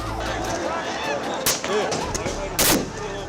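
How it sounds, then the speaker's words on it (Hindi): Police fire rubber bullets and tear gas at protesters in Nepal: two sharp, loud cracks ring out about a second apart over a dense background of crowd noise and shouting voices. "पुलिस वाले रिस्पॉन्स करते हैं water gun, tear gas and rubber bullet से।"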